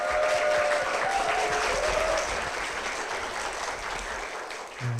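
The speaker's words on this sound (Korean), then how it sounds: "박수로 모시겠습니다." Applause fills a church service as a guest is welcomed forward, steady and close for about five seconds, with a faint tone running beneath the first couple of seconds.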